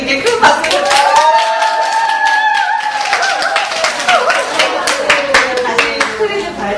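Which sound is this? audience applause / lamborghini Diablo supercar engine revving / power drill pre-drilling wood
audience applause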